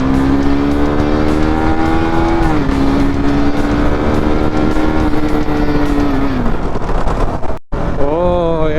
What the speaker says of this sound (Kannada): ಗಾಡಿ ವಾರ್ಮ್ ಅಪ್ ಮಾಡ್ತಾ ಇದ್ದೀನಿ.